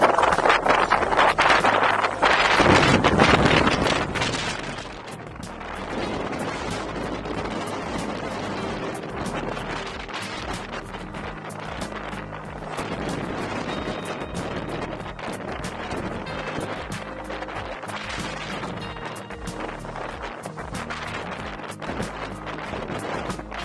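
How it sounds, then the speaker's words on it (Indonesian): Strong wind buffets the microphone while cycling solo around Jeju island, with a loud roaring gust at the start settling into a steady, continuous rush of wind noise throughout. "Angin tetap kenceng, walau pemandangannya bagus"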